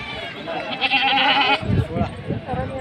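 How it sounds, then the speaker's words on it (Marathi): A goat gives one long, wavering bleat close by at a livestock market in Gangakhed, followed by someone speaking briefly in the foreground. "ही पण होंडी शेळी आहे"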